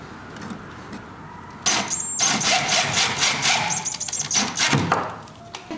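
A power drill pre-drilling a tongue and groove wooden panel inside a camper van, with several loud bursts of whirring and rattling after a quiet start.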